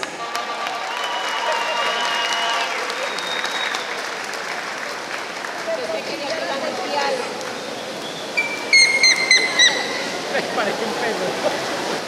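Audience applause fills a hall at a regional bambuco sureño dance contest, a steady wash of clapping that runs throughout, with a few whistles and voices rising over it near the end.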